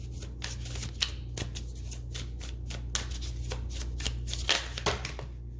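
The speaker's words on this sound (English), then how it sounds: "I'm going to reshuffle. This was like half the deck." Tarot cards riffled and reshuffled by hand in repeated quick bursts of crisp flutters and taps, close and fairly loud over a steady low hum, with no talking.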